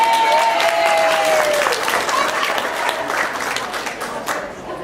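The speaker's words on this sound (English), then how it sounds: "I think you should all clap the navigators." Dinner guests at a presentation dinner for a Chrysler restorers' national tour applaud the navigators: loud, sustained crowd clapping that tapers off, with murmuring voices and a brief whistle early on.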